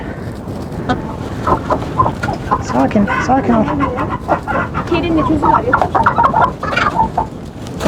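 Hens and chicks cluck and peep inside a coop, busy overlapping calls close by while a person talks over them.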